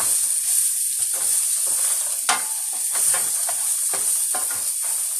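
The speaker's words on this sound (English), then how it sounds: "I'm gonna be adding some of this mushroom" Mushrooms fry for shrimp fried rice in a hot pan, making a loud, close, continuous hissing sizzle with intermittent scraping strokes of a stirring utensil.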